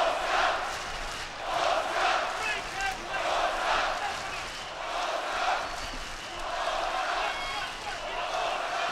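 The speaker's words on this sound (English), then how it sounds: "Crowd chanting Polska for Poland." A boxing arena crowd chants Polska for Poland in a steady, rhythmic, repeating cheer during a twelve-round heavyweight bout, the chant rolling continuously and loud throughout.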